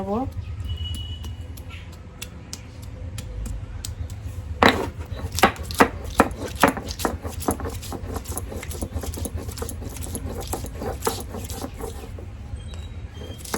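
Ginger and garlic are crushed into paste by hand, a series of sharp rhythmic knocks and scraping strokes, moderately close, while someone talks throughout.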